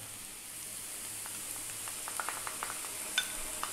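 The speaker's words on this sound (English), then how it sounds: "We really want to cook the tomato paste out" Tomato paste frying in a pan with braising short ribs: a soft, steady sizzle with faint scattered pops and light stirring clicks, close and quiet, no talking.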